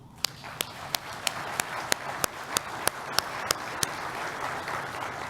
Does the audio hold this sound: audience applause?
yes